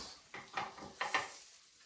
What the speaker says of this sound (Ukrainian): Беремо наші котлетки і кладемо сюди